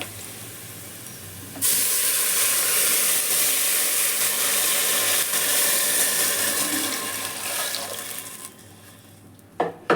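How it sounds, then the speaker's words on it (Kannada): Water for jeera rice pours steadily into a cooking pot, a continuous loud rushing splash that starts abruptly, runs for several seconds, then tapers off toward the end. "ನಾನು ಇವಾಗ ಹೇಳಿದ್ನಲ್ಲ 3 ಗ್ಲಾಸು ನೀರನ್ನು ಇದರಲ್ಲಿ ಹಾಕ್ತೀನಿ"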